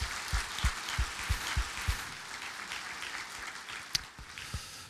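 A church congregation applauds in a large hall with moderately loud, dense clapping that fades after a few seconds into quiet room tone.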